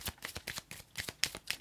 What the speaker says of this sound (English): Let's pull 3 cards